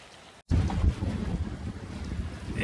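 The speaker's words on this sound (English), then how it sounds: "It's blowing pretty hard here." Strong wind buffets the microphone at Whitehaven Beach, where gusts of 25 to 30 knots blow. A brief silence gives way to a loud, continuous rumbling roar of wind that stays steady to the end.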